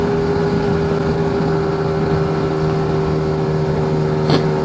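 A Lambretta scooter engine fitted with a BGM PRO MZ30 exhaust runs at high revs above 5,500, a loud steady buzzing drone with a strong hum and no voices.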